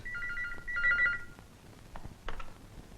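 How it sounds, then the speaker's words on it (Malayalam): A telephone rings in two bursts of warbling electronic trills during a scene in a Malayalam film, followed by quiet room sounds with a few faint knocks and clatters. "ഫോൺ എടുക്ക."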